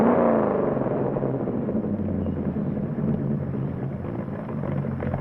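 A car engine runs with a steady low rumble throughout, fairly loud and close, with no talk over it.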